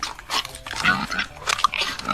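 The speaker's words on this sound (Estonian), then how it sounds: "Jah, siga." A pig oinking in a children's sound-guessing game: a series of close, loud grunts and squeals in uneven bursts, with no talk over them.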